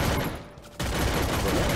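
Rapid bursts of gunfire from the mobile battle-royale game Free Fire, loud and continuous with a brief lull partway through before the shooting resumes at full intensity.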